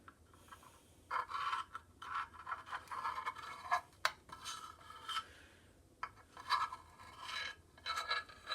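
A small screwdriver spreading non-drying sealant on a Honda VF750F motorcycle engine, giving close, quiet bursts of scraping and rasping with short gaps between strokes.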